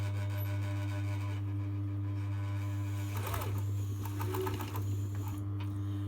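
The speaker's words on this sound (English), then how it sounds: "stitch across the cord." Close by, a sewing machine stitches across the piping cord at the edge of the fabric. A steady motor hum is joined midway by a short, rapid burst of needle clatter.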